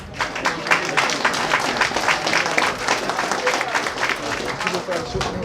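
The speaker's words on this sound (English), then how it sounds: "Ladies and gentlemen, give Mr. Whiskey a round of applause" Audience applause after a seminar presentation, dense steady clapping from a room of people, fairly loud and continuous across the whole stretch.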